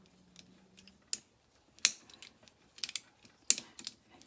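A 6mm hex key turns against a mountain bike pedal bolt, giving sparse small metallic clicks and ticks with quiet gaps, close and faint.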